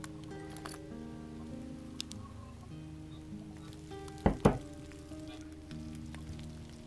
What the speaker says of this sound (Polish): Ognisko, upieczmy mięso.